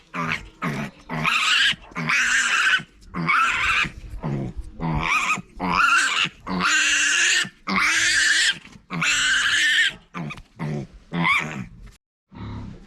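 Loud, harsh squeals and grunting from newborn piglets being vaccinated, in long repeated bursts, close by, with short gaps between cries.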